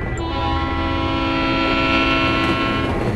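A train rumbles by directly overhead in the Battlefield Hardline multiplayer game, a loud, sustained low roar with steady tonal hum and a brief high squeal near the start, no voices.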